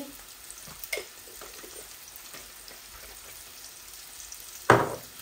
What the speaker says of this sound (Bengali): এখন আমি হাঁড়িতে এই অল্প একটু মৌরি দিচ্ছি